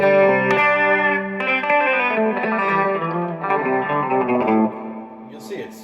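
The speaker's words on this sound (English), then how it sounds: "but it's really a reverb pedal." An electric guitar plays sustained chords and single notes through a Ghost Echo reverb pedal, giving a lush, washy tail that rings out and fades near the end, loud and close.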